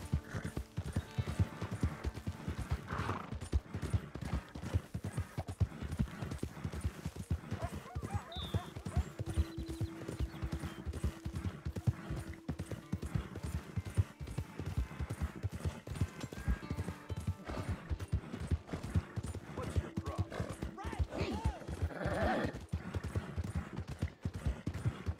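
Horse hooves clip-clop steadily in the video game Red Dead Redemption 2, a continuous rhythmic trotting with a brief whinny partway through, moderately loud against the game's ambient background.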